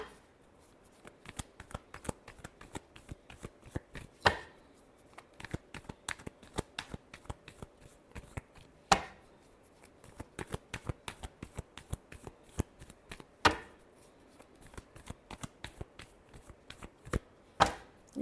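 Tarot cards are shuffled close by in a long, uneven run of crisp riffling snaps and taps, with a few louder slaps, and no talking over them.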